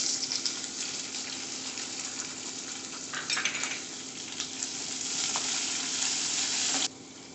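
Shallots frying with garlic and green chili in a hot pan, giving a dense, steady sizzle with a few brief stirring scrapes that cuts off abruptly near the end, no talking.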